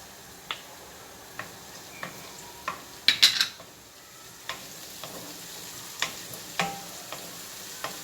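Onion sautéing in a pan while squid with tomatoes and parsley is cooked, soft frying hiss under scattered sharp utensil clicks and scrapes, with a brief cluster of louder taps near the middle, close and fairly quiet.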